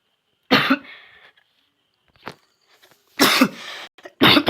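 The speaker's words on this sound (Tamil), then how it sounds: "ஆனால் இருமல் மட்டும் நிற்கலை." A person who is ill with chest pain gives several harsh, close coughs in separate bursts with brief quiet gaps, including a faint short cough between the louder ones.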